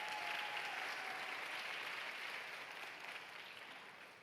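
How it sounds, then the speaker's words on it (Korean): Congregation at a Sunday youth church service applauding to welcome a young man up front, a steady wash of many clapping hands that gradually fades toward the end. "큰 박수로 맞이해 주시기 바랍니다"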